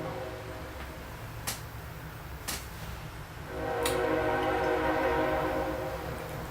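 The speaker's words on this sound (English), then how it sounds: "The trains really need to knock it off." A rumbling train passes nearby, with a steady mechanical drone that swells louder, punctuated by a few sharp clanks.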